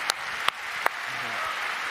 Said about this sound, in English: please a warm applause for all of them